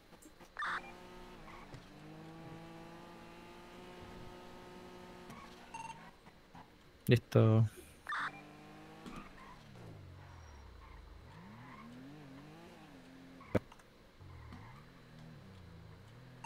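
A car driven in GTA V revs and accelerates through rising, gear-stepped engine tones, with a sharp crash or skid burst midway and later wavering revs; a brief spoken word is heard early.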